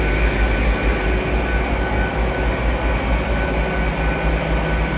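A train at Dawlish, England, rumbles steadily nearby, a continuous low mechanical roar with a constant hum throughout.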